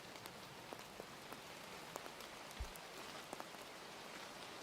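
Steady rain falls outside, a soft continuous patter with scattered individual drops ticking against a surface, faint and even throughout with no voices.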